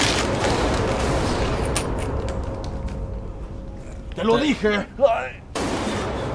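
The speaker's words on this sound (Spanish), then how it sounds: "Tremendos disparos" Burst of gunfire in an animated scene, a dense fusillade of shots through the first few seconds, followed by loud shouting voices and then a renewed rumble.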